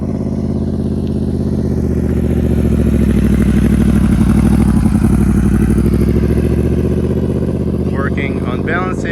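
A Yamaha R1 motorcycle, running restricted like a 600cc, hums loudly with a steady engine drone that swells as throttle is applied, while someone talks over it throughout.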